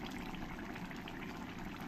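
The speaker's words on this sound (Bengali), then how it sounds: "এবার এর উপর দিয়ে আমি একটু ফ্রেশ ক্রিম দিয়ে দেবো।" Fresh cream is poured over a spinach and jackfruit curry cooking on a medium flame, giving a steady, close pouring and wet sizzling wash with no talking.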